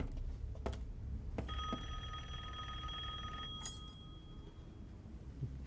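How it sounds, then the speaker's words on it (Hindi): In the video game Resident Evil Village, a telephone rings with one bright, sustained electronic ring lasting about two seconds, heard over low ambient game sound and scattered soft knocks. "फोन फोन बज रहा है"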